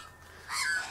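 Australian magpies give a short harsh call close by, a single loud squawking burst in the second half after a quiet start, with no talk.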